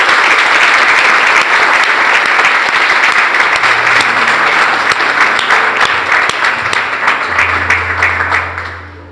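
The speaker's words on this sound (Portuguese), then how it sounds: "Pode aplaudir o Senhor?" Church congregation applauding together at a regional supervision service, a dense, loud, sustained clapping that fills the room for several seconds before tapering off at the end, with no talk over it.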